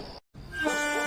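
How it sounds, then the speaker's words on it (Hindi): A train horn in an animated horror story sounds as a short toot, cut off by a brief silence, then a sustained steady blast. "ट्रेन ने 2 बार हॉर्न दिया"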